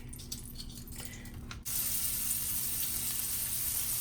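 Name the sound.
beef sizzling in pan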